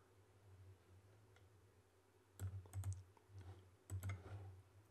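Keys on a computer keyboard are tapped in short clusters, faint clicks over a low steady hum, with two brisk bursts of typing in the second half.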